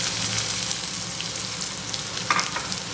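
Chopped onions and green chili sizzle steadily in hot oil in a pan, a close, dense frying hiss with light stirring scrapes throughout and a brief clink near the end.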